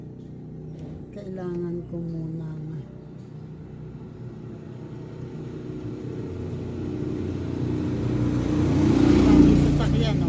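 Car driven along a street by a lone driver, engine rumble and low road noise running steadily throughout and swelling louder near the end, with someone talking over it early on.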